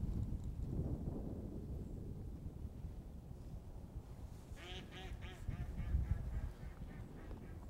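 Ducks quacking in a short cluster at a distance during a duck hunt, over steady wind rumble on the microphone, with no talk.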